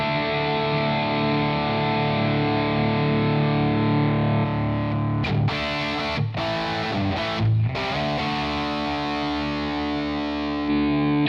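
An electric guitar played through a Quad Cortex amp capture, sustained distorted chords ringing out loudly, briefly cut off by a few quick muted gaps before ringing on again.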